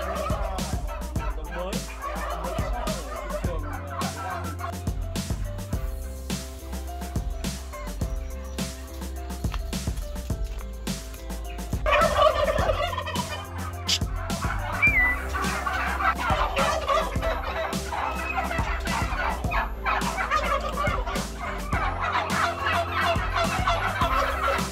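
Domestic turkeys on a poultry farm gobble continuously in a dense, overlapping chorus, with many birds calling at once and a louder burst of gobbling partway through.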